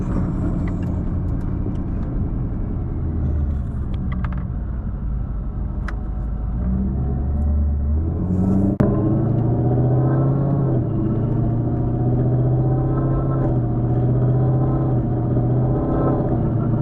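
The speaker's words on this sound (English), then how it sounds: "Yeah, the shifts are rolling now. A lot better than it was before I got the transmission built" A vehicle with a built Stage 3 RSA 10R80 automatic transmission accelerates under steady, loud engine drone, with rising harmonic sweeps marking gear shifts and a brief click midway, no talking.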